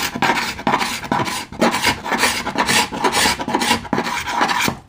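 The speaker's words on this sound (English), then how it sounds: "let's see if my handy dandy scraper can give me some instant gratification" A hand scraper strips old finish from mahogany boat wood during the gutting of a wooden boat, making loud, close, rhythmic rasping strokes in quick succession with no talking.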